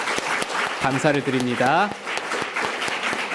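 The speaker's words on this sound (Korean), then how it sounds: "우리 뜨거운 박수로 다시 한번" A church congregation applauds the choir at a New Year's Eve service with scattered hand claps, while someone speaks clearly over them at close range.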